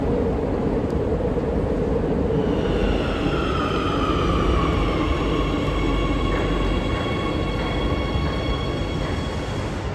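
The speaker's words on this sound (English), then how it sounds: "the metro is here much, much better than the tube in London, much more modern" A Madrid metro train in motion, loud and close from inside the carriage, with a constant rumbling roar and rising, drawn-out wheel squeals and whines through most of the ride.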